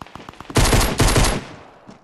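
A loud, close burst of rapid SMG fire in Fortnite, lasting about a second. A few fainter taps come before it, and the sound tails off into a short decay.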